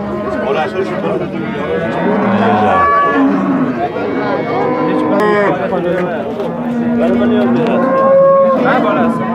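A cow moos loudly several times amid a busy crowd, with people chatting nearby throughout.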